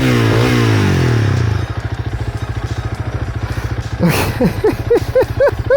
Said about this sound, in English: Some kind of weird rattle going on.